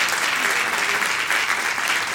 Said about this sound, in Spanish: te pido un aplauso para ese Dios